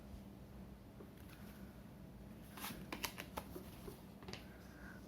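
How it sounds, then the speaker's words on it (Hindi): Tarot cards being shuffled during a reading, a soft riffle with a few brief crisp flutters and snaps over a quiet background hiss. "One more shuffle."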